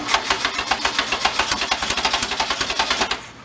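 Old Volkswagen engine cranking on a push start button, a fast rhythmic churning of steady starter pulses for about three seconds, loud and close, then cutting off.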